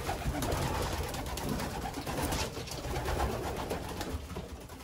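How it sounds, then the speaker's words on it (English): Pigeons coo steadily throughout an old bird loft in Moose Jaw, Saskatchewan, a dense continuous murmur of many birds close by, with no talk. "So this is the old flying loft, old bird loft."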